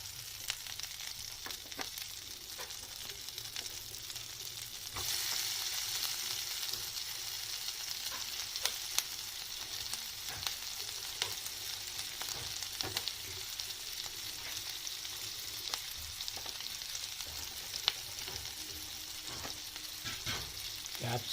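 Capsicum and onion pieces frying in butter in a pan, a continuous close sizzle with intermittent stirring scrapes, rising a little louder after a few seconds and holding steady.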